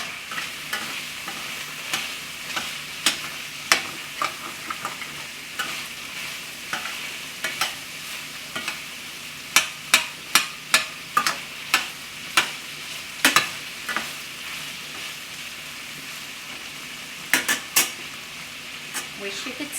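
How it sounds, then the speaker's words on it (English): Sausage and onion fry in a pan with a steady soft sizzle, broken by frequent sharp clicks and scrapes of a utensil stirring against the pan, with a cluster of taps near the middle. No one speaks. "That's just your sausage and your onion cooking."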